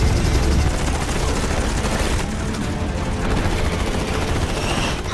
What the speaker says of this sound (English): Out of missiles! Switching to guns!